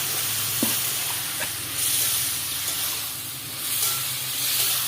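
Potatoes frying in oil in a pan give a steady soft sizzle and hiss with a few faint clinks, moderate and continuous, with no voices.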